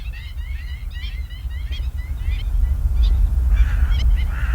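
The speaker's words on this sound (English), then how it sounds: "Black-faced spoonbills share their habitat with Ardea species, herons and egrets." Herons and egrets (Ardea species) in a reedy wetland shared with black-faced spoonbills give a series of harsh, honking calls, moderately distant, over a steady low rumble of background noise.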